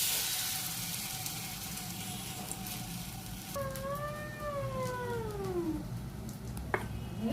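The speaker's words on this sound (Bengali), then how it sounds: "দেখুন কতগুলো লাউয়ের খোসা ভাজা করছি" Bottle gourd peels fry in gram flour batter with a low continuous sizzle, while a cat meows loudly nearby in several drawn-out, wavering calls that dominate the frying hiss.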